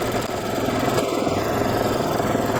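An embroidery sewing machine stitching a fabric appliqué center, hammering over and over on the same spot, gives a steady, loud, continuous mechanical whir and rattle with no pauses.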